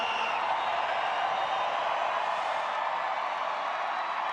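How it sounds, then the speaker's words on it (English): A dense, steady crowd of race fans at the Formula E Mexico City E-Prix roars with no breaks, a broad wash of many voices and cheering filling the space at a constant loudness. "Fantastic crowd here."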